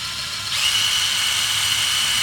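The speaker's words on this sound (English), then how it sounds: "this is the greens harvester, powered by a drill." A drill-powered greens harvester with a front cutting blade, used in a market garden in January, whirs up to a steady, loud, high-pitched drone after a brief pause and keeps running evenly with no talking.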